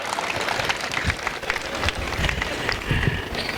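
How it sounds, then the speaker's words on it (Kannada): An audience at a health talk breaks into applause, a dense, steady clapping from many hands held at a moderate level throughout, with a few louder individual claps standing out. "ಈಗ ಚಪ್ಪಾಳೆ ತಟ್ರಿ."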